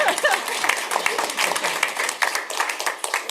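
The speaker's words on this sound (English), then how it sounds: "yeah, I wouldn't mind some applause." Attendees at a board meeting applaud, a brief burst of scattered, fairly close hand claps mixed with voices talking over it.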